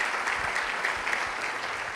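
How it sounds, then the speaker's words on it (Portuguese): A church congregation applauds a visiting brother, steady dense clapping filling the whole stretch at moderate level with no voices on top. "Dê uma salva de palmas pela vida do nosso irmão."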